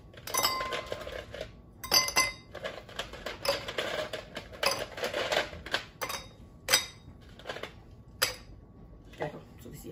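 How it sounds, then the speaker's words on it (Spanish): Ice cubes are dropped into a drinking glass for a Sex on the Beach cocktail, producing a rapid series of bright clinks and rattles, close by, with irregular clusters of impacts over about ten seconds and a voice speaking at times. "Lo primero que vamos a hacer en el vaso de su preferencia, copa, lo que usted escoja, lo vamos a llenar de hielo."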